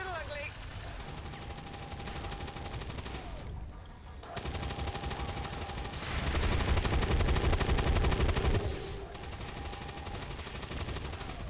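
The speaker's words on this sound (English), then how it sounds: "Oh, covering fire." Dense, sustained automatic gunfire from a covering-fire reaction shot in the turn-based tactics game XCOM 2, rattling continuously for several seconds and swelling louder midway, with a brief lull, over a rumbling game soundscape.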